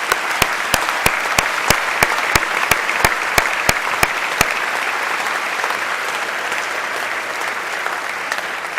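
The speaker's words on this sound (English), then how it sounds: "Please join me in a round of applause for the department's senior leadership." An audience at a Justice Department awards ceremony applauds the department's senior leadership, steady dense clapping throughout, with sharp camera shutter clicks repeating in the first half.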